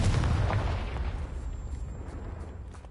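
A Confringo fire spell blast in Hogwarts Legacy bursts with a loud booming impact at the start, then rumbles and fades away over a few seconds with faint high ringing.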